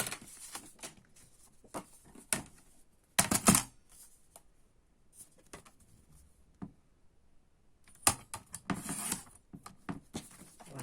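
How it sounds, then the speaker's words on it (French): Scissors snip through a small piece of paper for a scrapbook folio album, a few sharp close crunching cuts separated by quiet rustling and handling of paper. "je vais devoir couper un petit bout là"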